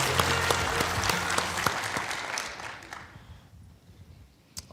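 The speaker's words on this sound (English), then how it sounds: "Give them all a round of applause." Audience applause at an ergonomics awards ceremony, a dense burst of clapping that starts loud and thins out, fading toward near quiet with a few scattered last claps at the end.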